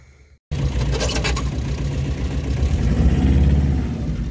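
A Tata Ace mini truck's engine revs hard in fourth gear, a loud steady drone that swells and holds near the mic after a brief quiet start, with no talking.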